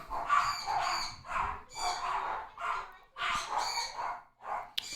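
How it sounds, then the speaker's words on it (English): Several excited dogs bark and yelp in overlapping bursts, loud and close, with barely a pause between them. "You let them out of the cage, and they start barking to go outside, and they get so excited about it."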